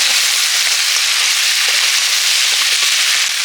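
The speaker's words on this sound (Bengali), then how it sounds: "আবার তো কাঁকড়ার সাথে একটু কষে নেব।" Crab being stir-fried in a hot pan sizzles loudly and steadily, a dense continuous hiss with a few faint clinks of stirring and no voices.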